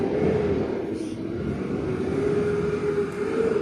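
A truck drives past outdoors, its steady low engine rumble and tire roar filling the whole stretch at a fairly loud, even level with a slight swell, no talk over it.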